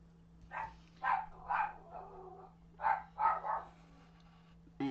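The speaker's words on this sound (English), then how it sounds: "And I'm going to go and make my dog stop barking." A dog barks in several distinct bursts, loud and fairly close, in two clusters with pauses between, over a steady low hum indoors.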